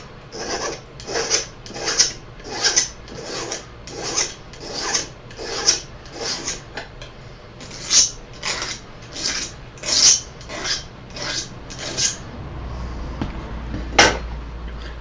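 A hand file rasps burrs off metal arrow points in rhythmic strokes, about a dozen scrapes close to the mic with short pauses between them and a low hum underneath.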